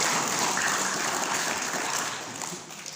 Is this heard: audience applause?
yes